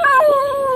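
A dog lets out a drawn-out, wavering howl, close and loud, rising and falling in pitch as if trying to form words, with no talking over it.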